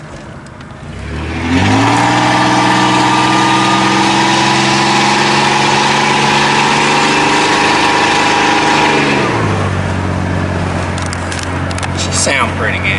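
A car engine, not a V8, starts up and idles at a car show, a loud steady rumble with a rising then falling pitch as revs climb and settle back to a low idle.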